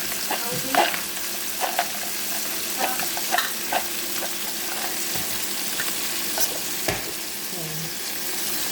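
Cashews sautéing in a pan for an Arabic dish in a home kitchen, a steady sizzle broken by clattering stirs of a utensil against the pan, no talking.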